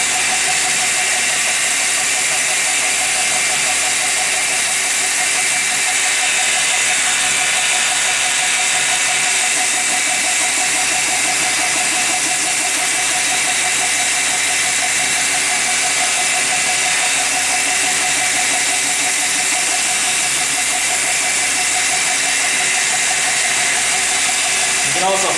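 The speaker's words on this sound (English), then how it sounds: "I'm polishing all those 240 grit scratches out to 600" A knife blade is polished on a belt grinder from 240 to 600 grit, producing a loud, continuous, even mechanical whir with a steady grinding texture that runs without a break.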